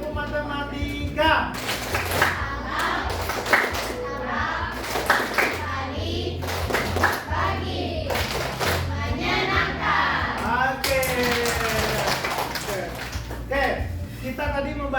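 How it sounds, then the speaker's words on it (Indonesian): A classroom of students claps out the patterned math clap rhythm in rapid bursts of sharp hand claps with short pauses between, close and loud, with young voices chanting along. "Satu kali tepuk matematika."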